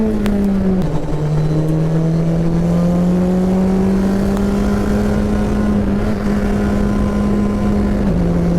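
Race car driven hard around a track, much like an oversized go-kart, its engine a loud, steady close-up drone from start to finish, with a sharp gear change near the beginning and another near the end.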